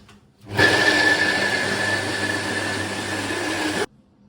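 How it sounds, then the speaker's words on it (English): An electric grinder whirs through chopped onion, a loud steady motor roar that starts abruptly, holds for about three seconds and cuts off sharply, with no talking. "Then I'll toss this all into my grinder and grind"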